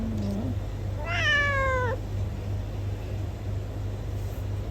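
A cat gives a single drawn-out, whiny meow while a child pesters it indoors, heard close against a steady low hum of background noise.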